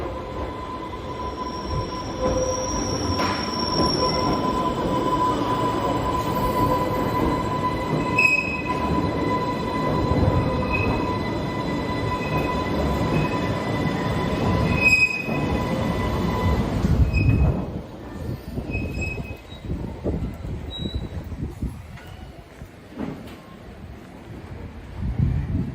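A passenger train at a station on a line serving Ryde, with a steady rolling rumble, faint wheel squeal and rattles throughout, a tonal hum fading as it slows and settles near the end.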